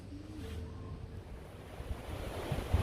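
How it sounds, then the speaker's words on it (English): Ocean waves at Hua Hin Beach in the late afternoon, a soft continuous wash of surf with wind rumble building toward the end, at moderate distance and fairly quiet. "Hua Hin Beach, late afternoon."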